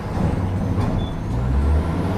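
A container depot truck at close range, its engine rumbling low and steady under a broad hiss from its air brakes, with no talking.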